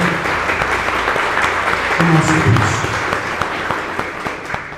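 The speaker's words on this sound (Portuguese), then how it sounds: "Vamos dar uma forte salva de palmas para Jesus" Church congregation applauding together, a steady wash of clapping that swells briefly and carries on under someone speaking Portuguese over it.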